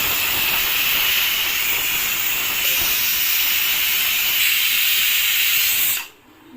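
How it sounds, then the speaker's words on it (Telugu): A pressure cooker of mango dal on a stove vents steam in a loud, steady, close hiss that lasts about six seconds and then cuts off abruptly. "ఇప్పుడు 3 విజిల్స్ వచ్చేసినాయి."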